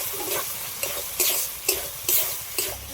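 Shelled peas hit hot spiced oil in a pan with a loud, close sizzle. Rhythmic stirring scrapes and bursts come roughly every half second, and nobody speaks.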